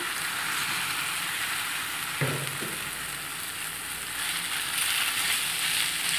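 Potatoes tipped into a pan of frying onion and pepper, giving a steady, close sizzle with a brief thump and stir as they land, then continuous crackling frying throughout.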